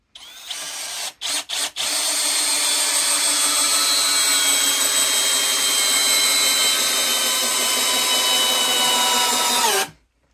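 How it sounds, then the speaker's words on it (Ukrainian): A Dnipro-M CD-201HBC cordless drill, set to drill mode at first speed, drives a screw all the way through a board, whining loud and steady for about eight seconds after a few short stuttering bursts, then stopping. "Просто повністю загнало в режимі сверління на першій швидкості повністю загнало."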